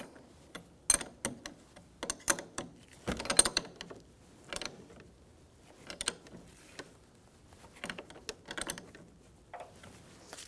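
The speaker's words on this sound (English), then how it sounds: "you're going to have a 1/2 inch or 13mm wrench or socket and snug this up" A ratcheting wrench clicks in scattered bursts of quick ticks with pauses between them while snugging the negative battery cable terminal on a 1997-2006 Jeep Wrangler 2.4L L4, close and fairly quiet, with no talking.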